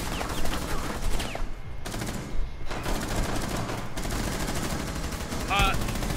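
Gunfire in a shooter video game, dense bursts of rapid shots and heavy booms crowding the whole stretch, with a voice briefly heard over the din.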